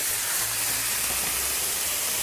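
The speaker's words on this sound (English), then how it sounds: "That's the steam coming off here." Vegetables cooking in a pan with water give off a steady, broadband steam hiss that holds constant throughout, close and fairly loud with no talking.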